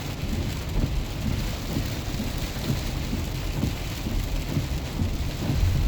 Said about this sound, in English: That rain is still pretty bad.